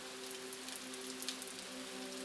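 Steady rain falls in a continuous soft hiss with faint drops tapping, low in level with a quiet tonal hum beneath.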